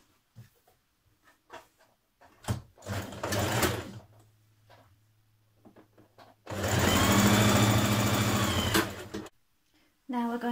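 Sewing machine stitching the shoulder seams of a Simplicity 1586 colour block dress, one steady run of a few seconds between quieter handling noises and short bursts of speech.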